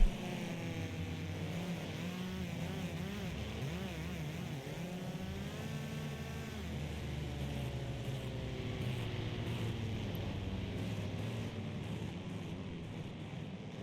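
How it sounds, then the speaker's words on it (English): Several race car engines drone and whine together at a steady roar in the video game Wreckfest, Trans-Am series at Northland, pitches rising and falling as they accelerate, continuous and fairly distant, no talking. "we'll just hear the sounds of these roaring engines"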